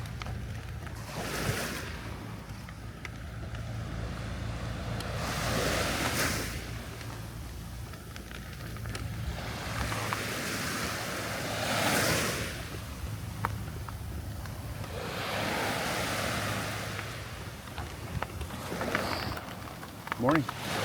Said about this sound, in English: let you hear the sound of the ocean